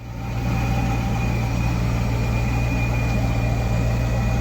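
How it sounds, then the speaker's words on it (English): A Corvette C6 V8 with a freshly installed aftermarket cam idles steadily and loudly close by, a deep, even rumble with a choppy low pulse that holds without pause throughout. "I do like the contrast between how the C6 sounds at idle"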